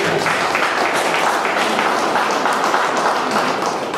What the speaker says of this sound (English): Big round of applause for Nikki.